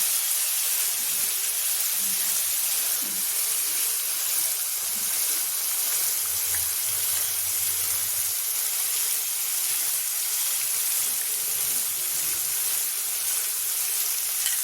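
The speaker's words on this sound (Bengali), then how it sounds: "ছোলার ডালটা একটু ভেজে নিতে হবে" Chana dal fries in hot oil in a pan, a dense, steady sizzling hiss that runs close and unbroken throughout, with no voices.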